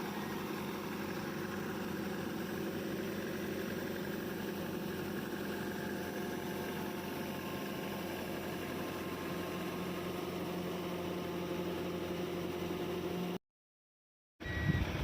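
A rice harvester unloads threshed paddy into a waiting tractor out in the field. Its engine drones loud and steady, with a continuous rumbling, vibrating hum that cuts to brief silence near the end.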